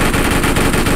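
Rapid video game gunfire comes as a loud, close burst of automatic shots, about a second of steady rattling fire.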